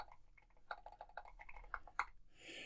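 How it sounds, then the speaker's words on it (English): Rapid typing on a computer keyboard while configuring a Linux desktop from a terminal, with irregular close key clicks in quick bursts followed by a brief soft noise at the end. "I'm really having a hard time typing."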